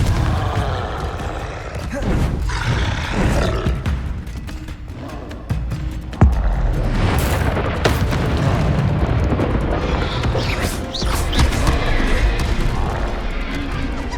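Repeated Confringo blasting-spell explosions in Hogwarts Legacy gameplay: loud, booming bursts and crashing impacts across a noisy, continuous battle soundscape, with a sharp hit near the middle.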